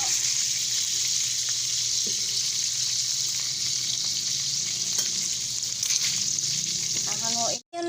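Pork adobo sizzles steadily in a hot pan, a continuous bright frying hiss with occasional stirring scrapes, close and loud, ending in a brief cutoff.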